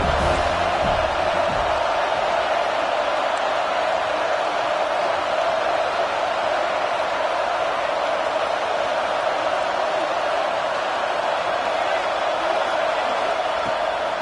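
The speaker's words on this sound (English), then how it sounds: "Decibels rising as the crowd gets behind this defense on 3rd down." A broad, steady roar from a stadium crowd in a College Football video game, with Clemson playing on third down. The roar is sustained and loud and sits under a commentator's voice.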